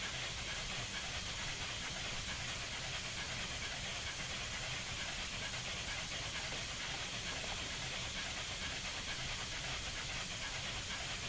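Steam hiss from a Union Pacific FEF-3 844 steam locomotive in Train Simulator 2015, a steady, loud broadband rush that holds unchanged for the whole stretch with no talk.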